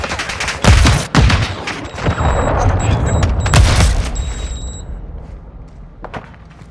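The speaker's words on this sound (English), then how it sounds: "Hostile cruise missile incoming." Explosions and gunfire in a Call of Duty MW2 team deathmatch, several sharp loud blasts and booms in quick succession over rattling shots and faint radio beeps, fading to quieter distant bangs.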